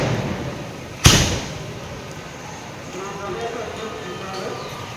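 One sharp firecracker blast goes off in a rubber plantation in Kerala, a single close, loud crack followed by a fading rumble, then steady outdoor background.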